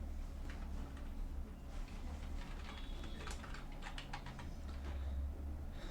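Quiet computer-keyboard typing ending with an Enter press, a run of light quick clicks close to the microphone over a low steady hum, with no voices.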